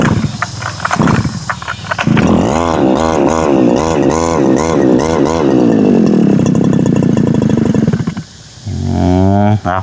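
A new grass cutter engine warms up close by, roaring loudly with repeated revving surges that rise and fall, settling into a steadier drone and dropping briefly near the end before revving again.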